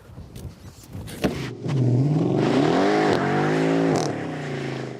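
Mercedes E63 AMG with 525 hp accelerating hard, engine note rising in pitch through several sweeps with a brief dip between gears, loud and close, no talk.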